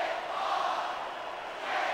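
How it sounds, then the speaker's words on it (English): A capacity crowd in the wrestling video game SVR 2006 cheers behind its superstar, a dense, steady roar that swells slightly at the end, with no talk. "This capacity crowd is solidly behind their superstar."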